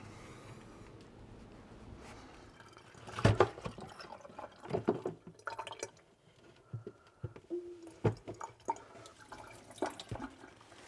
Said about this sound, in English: Okay, so the ice is just released from the cooler.